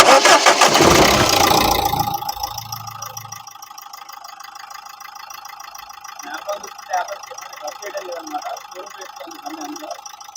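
A 2013 Renault Duster RXZ diesel engine cranks and catches with a loud, rough burst, then drops within a couple of seconds into a steady, quieter idle clatter that runs on to the end.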